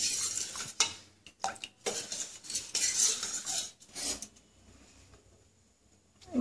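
A spoon scrapes and stirs a milk and rice paste around a metal pot on a gas flame, with irregular clinking and rasping strokes that come in bursts and pauses, close up with no talking.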